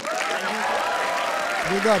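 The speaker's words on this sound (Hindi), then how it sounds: "एक बार ब्रो कोड के लिए तालियां." Audience applause at a roast show breaks out as a steady, dense patter of clapping that continues throughout, with a voice briefly cutting through near the end.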